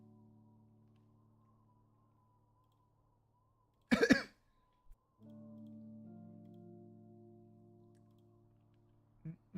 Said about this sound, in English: I think I might just be coughing all stream.